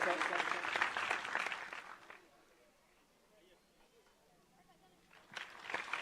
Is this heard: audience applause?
yes